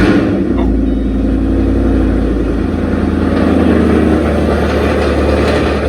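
A Coyote-swapped S197 Ford Mustang running a non-stock tune rumbles loudly and close, its deep idle steady, then a rev swells and lowers again.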